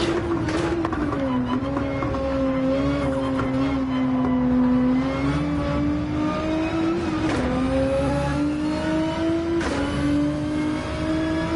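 Engine of a GR3 race car in the Gran Turismo 7 video game, a loud sustained drone that rises and dips in pitch through gear changes and throttle shifts, continuous for the whole stretch.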